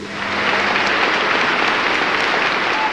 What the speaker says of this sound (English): It was said Stalin's ovations were so long because nobody dared to be seen as the first to stop clapping.